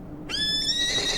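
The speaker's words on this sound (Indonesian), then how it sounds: "Tiba-tiba, anak kuda muncul kembali." A foal in the Dororo anime gives a short, bright whinny that starts abruptly and rings on to the end, heard clearly over faint background sound.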